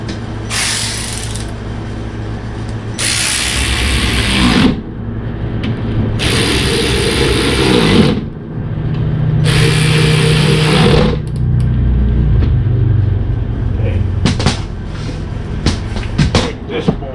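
A ratchet bolts a new motor onto a 1977 Pontiac Trans Am, sounding as four loud bursts of rapid metallic clicking separated by short pauses, with some softer mechanical clatter near the end.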